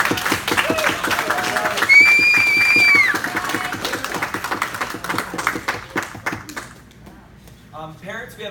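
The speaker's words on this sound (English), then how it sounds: "How about one last round of applause?" A final round of clapping from the audience at a karate belt ceremony, brisk and close, running under a voice and tapering off near the end.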